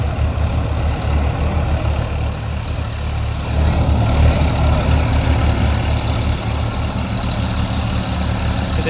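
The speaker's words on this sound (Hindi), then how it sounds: "देख लो आवाज़ भी नहीं आ रही, बिल्कुल साइलेंट ट्रैक्टर चल रहा" A Sonalika 734 tractor running a 7-foot rotavator gives a steady, loud low rumble with constant mechanical noise throughout.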